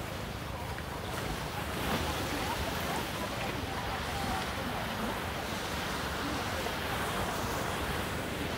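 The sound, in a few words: sea waves at Davao del Sur beach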